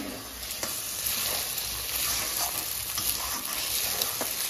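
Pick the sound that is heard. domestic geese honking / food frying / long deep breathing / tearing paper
food frying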